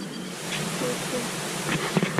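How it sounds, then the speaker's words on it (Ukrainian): Steady rain falls around a parked vehicle at an Australian surf spot, a continuous broadband hiss with a few brief knocks and voices near the end. "дощ, правда, йде"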